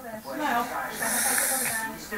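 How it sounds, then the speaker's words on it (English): A long, close nasal sniff of something being smelled, breathy and hissy, lasting about two seconds. "Have a proper sniff."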